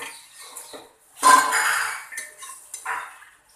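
Crisp fried taro pieces clatter and rattle against a metal pan and utensil in a few short bursts as they are lifted out, close and fairly loud.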